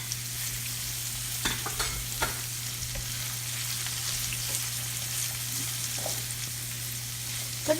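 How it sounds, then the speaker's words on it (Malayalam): Onions and curry leaves frying in oil for a home-style chicken curry, a dense steady sizzle with a low hum beneath and occasional stirring scrapes and taps, close up with no speech. "അപ്പോൾ ഈ ഉള്ളി നന്നായിട്ടൊന്ന് മൂക്കണം. നമുക്കതിലേക്ക് കുറച്ച് കറിവേപ്പില കൂടെ ചേർത്ത് കൊടുക്കാം."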